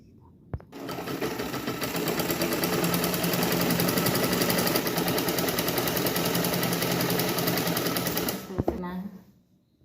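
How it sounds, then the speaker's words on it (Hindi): Sewing machine stitching a blouse collar, a loud continuous mechanical whir with rapid needle clatter running for about eight seconds before stopping, close to the listener. "दूसरा बाजू को सिल लेना है।"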